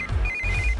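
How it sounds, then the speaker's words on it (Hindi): A phone ringtone chirps in a short, bright electronic ring, loud and close, with no one speaking over it. "इस वक्त दीदी का फोन।"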